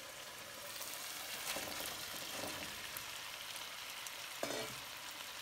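Cubed tofu simmers in a meat and sauce mixture for mapo tofu, making a faint, steady sizzle and bubbling with a few soft stirring scrapes and no voices.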